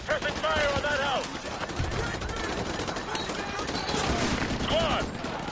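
Heavy automatic gunfire rattles continuously as a Call of Duty Modern Warfare 2 squad lays suppressing fire on a house, loud and dense with bursts overlapping, while shouted voices cut through the firing.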